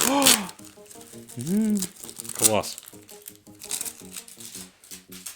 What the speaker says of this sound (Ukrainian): Скотч всюди прилипає.